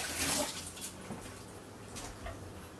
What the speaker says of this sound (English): Make sure we give everything a rinse.